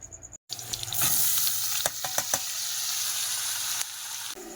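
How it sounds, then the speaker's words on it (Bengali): Potatoes frying with chopped onion and ripe and green chillies: a steady, close sizzle broken by a few quick clacks of stirring, with no voices. "এবার আলু ভাজাটা করবো এই যে পেঁয়াজ কুচি আর মানে পাকা লঙ্কা কাঁচা লঙ্কা"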